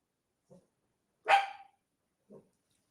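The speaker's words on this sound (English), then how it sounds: "What are you barking at?" A single sharp dog bark in a quiet room, framed by two soft, brief whimpers or yips before and after.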